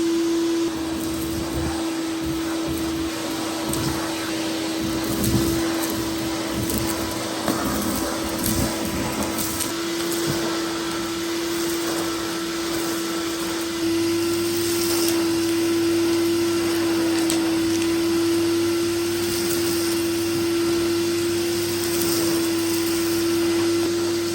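A Vax 3 in 1 clear vacuum cleaner runs continuously with strong suction, giving a steady loud motor whine and rushing air that stays even throughout, with no talking.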